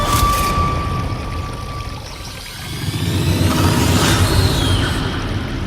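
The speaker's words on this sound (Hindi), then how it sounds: "इस नदी के सहारे, झरना जो बह रहा है" Water rushing steadily down a forest river waterfall, a broad continuous roar with a surge in the middle, close and loud, no voices.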